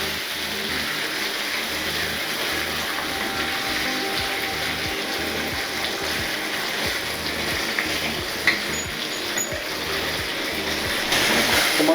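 A thick piece of vanjaram fish fries in a little oil in a covered pan, a steady broadband sizzle holding at even loudness throughout.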